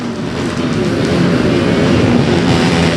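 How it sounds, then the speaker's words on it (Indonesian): Motorcycles parade past on Christmas Eve at Lapangan Samrat in Tondano, producing a loud, continuous, close engine roar that builds slightly and then holds steady. "Ada pawai motor gitu."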